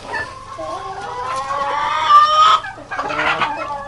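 A guinea fowl calls loudly and close by in a farmyard, giving a run of harsh, rhythmic cackling cries that rise and break off, then resume after a brief pause.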